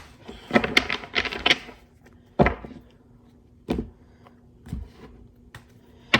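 Tarot cards being shuffled by hand make a quick burst of riffling flutters followed by several separate sharp taps and slaps of the deck, close and crisp against a quiet background.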